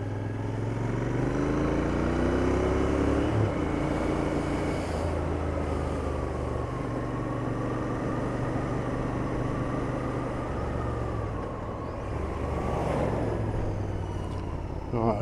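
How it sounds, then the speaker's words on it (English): A muffled Royal Enfield Interceptor 650 engine drones steadily while riding, a low continuous rumble mixed with heavy wind noise that never drops out. "you don't hear too much from the muffled engine when we're riding"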